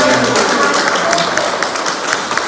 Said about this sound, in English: Give the candidates a round of applause.